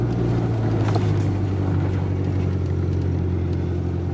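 A 1997 Ford Ranger pickup truck is driving, giving a continuous low engine drone and road rumble from inside the cab with no pauses and no talking.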